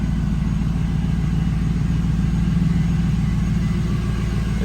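A 1999 Pontiac Firebird Trans Am sits idling just after a cold start on a cool, humid day, a steady low rumble with an even, continuous pulse heard close up.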